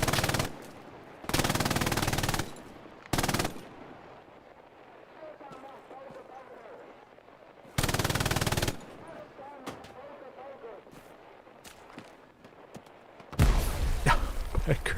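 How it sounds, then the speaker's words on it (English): A half-track's mounted machine gun fires in Hell Let Loose in several long, loud, close bursts separated by quieter gaps, with people talking underneath. "firing the half-track machine gun, you don't get many opportunities to do so"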